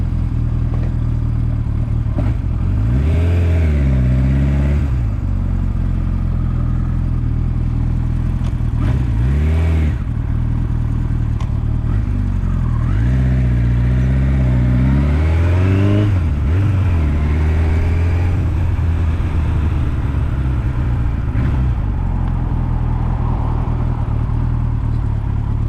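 A Kawasaki Z1 motorcycle's inline-four engine on a test run, revving up and down repeatedly in strong bursts, loud and close with a steady idle between blips.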